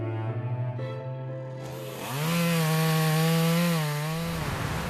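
A chainsaw cuts trees on a forested mountainside at Baekunsan in Muju, where a national forest is being logged. The engine runs steadily, then revs into a loud, sustained whine, and eases off near the end. No one speaks.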